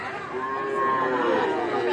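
A Sahiwal calf or cow at a cattle market in Manikganj moos in a long, steady low call, moderately near, with a murmur of crowd chatter in the background.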